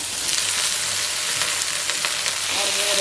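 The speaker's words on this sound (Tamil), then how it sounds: "சேர்த்து நல்லா வதக்கிக்கலாம்" Drumstick leaves and tomato sautéing in a pan with asafoetida, a loud continuous sizzle with occasional spoon stirs and scrapes, close by and without any talk.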